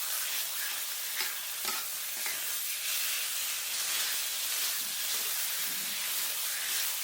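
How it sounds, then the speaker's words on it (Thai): Herbs fry in leftover oil for an old-style northern Thai dish, a continuous bright hissing sizzle that stays even and close throughout. "มาเจียวกับน้ำมันที่เหลือนะครับ"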